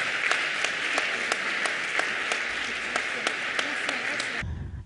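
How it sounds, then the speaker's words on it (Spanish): Audience applause at a popular science talk on mathematics and vaccines in Granada greets the speaker, steady clapping with a regular rhythmic clap standing out, stopping abruptly near the end. "Un aplauso a usted."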